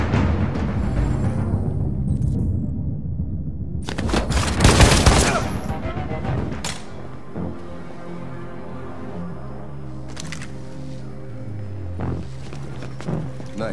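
A loud volley of gunshots in Detroit Become Human, a sharp burst of rapid fire peaking midway, then fading into a quieter ringing tail with sparse sounds.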